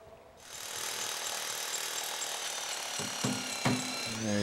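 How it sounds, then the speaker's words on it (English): Rotary hammer drilling holes for stainless steel anchors into the bottom of a culvert during a creek restoration, a steady loud percussive rattle running continuously with a few sharper knocks near the end. "we just came in with a roto hammer and again stainless anchors, and just anchor them to the bottom of the culvert"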